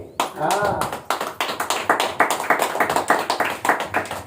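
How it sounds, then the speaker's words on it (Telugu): Audience clapping at a Telugu sermon: a steady run of sharp, fairly loud claps from a crowd, with a brief voice near the start. "చప్పట్లు కొట్టండి"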